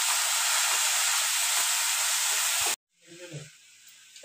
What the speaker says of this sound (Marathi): ते छान तेलामध्ये परतून घ्यायचं आहे आपल्याला